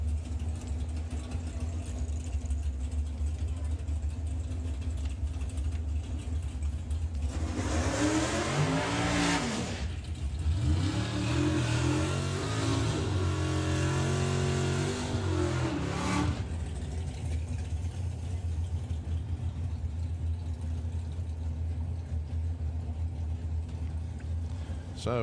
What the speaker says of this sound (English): we can hear the burble of Pro ET underneath the tower.